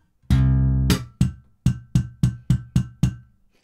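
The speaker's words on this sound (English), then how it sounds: "So we're playing a muted thumb slap." Muted thumb slaps on a bass guitar: one ringing low note, then eight short, dampened percussive thumps in an even rhythm, each cut off quickly, heard close and clear with no talking.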